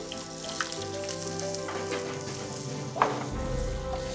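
Onions frying in a pan for a braised lamb sauce, a steady soft sizzle running throughout with a few light stirring clatters and a brief knock near the end, no talking.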